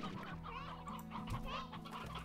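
Chickens cluck over and over in the Slime Rancher video game, a steady busy run of fowl sounds under a constant game music bed with no talking.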